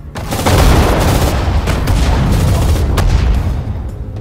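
Heavy gunfire and explosions from British units in the Sudden Strike 4 strategy game at the Mareth Line, a loud continuous barrage of booming blasts and rattling shots layered densely together.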